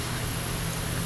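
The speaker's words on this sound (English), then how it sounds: "Water splashes at lower octave" Swimming pool water splashes slowed to one octave lower sound like a deep, steady roar of broadband hiss and rumble, unbroken and even throughout the short stretch.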